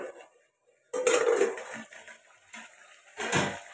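A lid clanks onto a cooking pot of chicken curry, a loud close metallic knock followed by scraping and a second clatter, with no talk.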